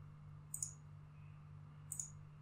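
Two quiet, sharp computer mouse clicks about a second and a half apart over a steady low hum, each a brief double tick, with no talking.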